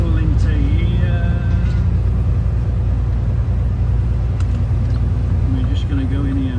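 A truck rumbles at a steady loud idle-to-crawl as it pulls into a small fuel station, with a deep continuous engine drone and faint brake hiss, under voices speaking.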